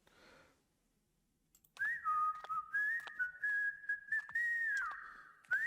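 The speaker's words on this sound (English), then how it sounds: "Starting with a little whistle." A melodic whistled tune opens a music video intro, clear and close, starting after a short quiet pause and continuing steadily with brief breaks.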